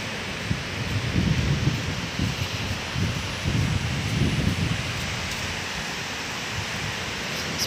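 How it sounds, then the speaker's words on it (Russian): Loud, continuous roar of surf with broad rushing noise and low rumbling swells rising and falling, no voices. "Волны шумят сильно."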